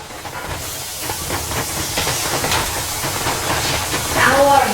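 A steam train sets off in the video game Metro Exodus with a broad, steady hiss of venting steam and a rumbling rolling clatter beneath it, close and continuous, and voices talk over it toward the end.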